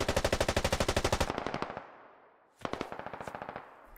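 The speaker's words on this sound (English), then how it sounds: "Now we got AR fire coming from the other hill." Assault rifle fire rattles in the video game Squad: one long rapid burst, then a short pause and a second burst, loud and close.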